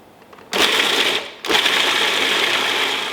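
Food processor whirring as it blends deviled egg filling, a loud steady motor hum in two bursts with a brief pause between, close up.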